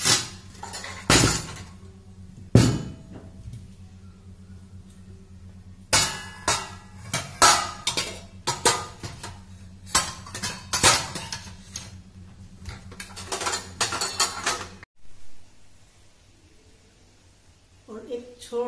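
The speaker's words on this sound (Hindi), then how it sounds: "अभी मेरे बर्तन सूख गए, मैंने टेबल पे सुखाया है इनको, अभी मैं इनको अंदर रख दूंगी।" Dried steel utensils are gathered from a table and put away in a home kitchen, giving a series of sharp metallic clanks and clinks in irregular bursts, then a quieter stretch near the end.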